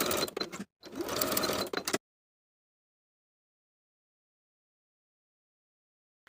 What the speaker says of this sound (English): Then we can sew those small portions together from the notch to the upper raw edges with a 3/8 inch seam allowance.